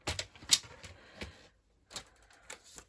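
Scissors snip through tea-dyed card in a few short crisp cuts, close and fairly quiet, with a brief pause partway through.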